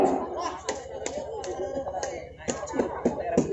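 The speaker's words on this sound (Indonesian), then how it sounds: "Tepuk tangan penonton nomor 2 kali ini." Scattered spectator claps at a volleyball final match, sharp individual hand claps and snaps recurring irregularly under voices and crowd murmur in an indoor venue.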